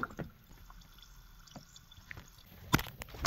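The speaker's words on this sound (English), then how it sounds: "Take the tablet and drop it in." A tablet drops into a BioBOMB canister filled with water inside a classic BMW car, giving soft wet plops and drips over a quiet background, ending in a couple of sharper splashy squishes.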